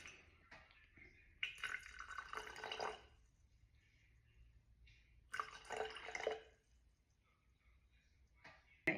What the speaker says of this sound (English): I'm going to add the water in first